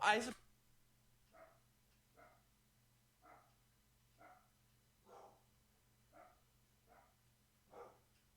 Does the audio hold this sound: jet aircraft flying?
no